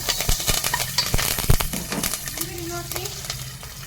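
Curry leaves drop into hot oil for a liver fry, with a busy crackling sizzle and several sharp clinks of a utensil against the pan, close and fairly loud.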